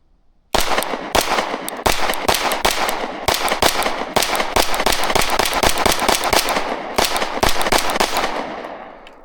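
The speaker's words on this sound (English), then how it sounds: "I love the way this gun shoots." A Kimber 2K11 Pro pistol fires a rapid string of sharp, loud gunshots in quick, slightly irregular succession, echoing outdoors with no talking.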